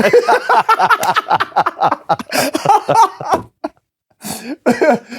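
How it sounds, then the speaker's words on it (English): A series of harsh, close coughs and throat-clearing bursts in quick succession, broken by a brief pause before a final few coughs. "he's just coughing up. He's got the cough now"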